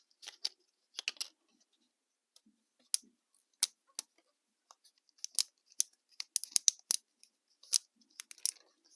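Excess scribed siding on a scale model water tank is trimmed away with sharp snipping cuts, a sparse irregular series of crisp clicks and snips separated by silence, close and quiet.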